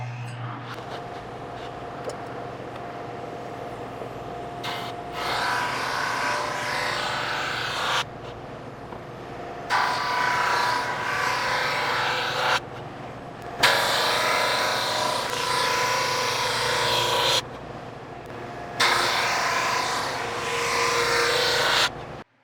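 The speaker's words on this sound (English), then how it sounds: "so use the belt sander" Belt sander on wide wooden boards for an Arts & Crafts lamp table: a steady motor hum with repeated bursts of harsher abrasive hiss as the sander passes over the wood, interrupted by short pauses.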